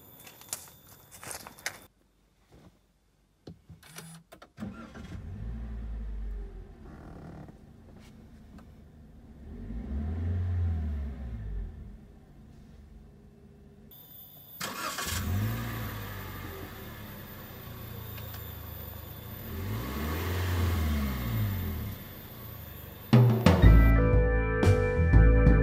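A 2018 Toyota Rush TRD Sportivo with a manual gearbox starts up, then its mid-range engine rumbles and revs in repeated swells as it pulls away and drives. A louder burst comes near the end, and no one speaks.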